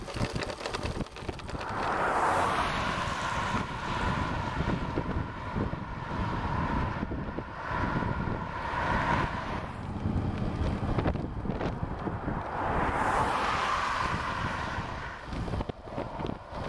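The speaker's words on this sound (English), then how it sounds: "the course can get super windy out here." Strong wind buffets the microphone in gusts on a half-Ironman bike course in Oliver, a rough, rumbling roar that swells and eases repeatedly, loud and close.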